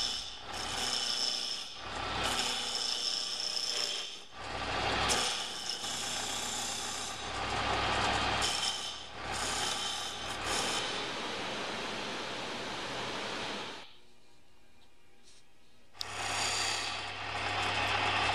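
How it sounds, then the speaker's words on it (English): Gouge carving away excess wood from a coffee table, repeated loud rasping scrapes in long strokes with brief pauses, close up, with a short near-silent gap before resuming. "Now using the gouge to get rid of the excess material."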